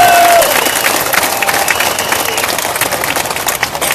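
An audience claps at a political speech rally in Melaka, a loud, dense burst of applause that fades slightly after a voice at the start, with crowd murmur underneath.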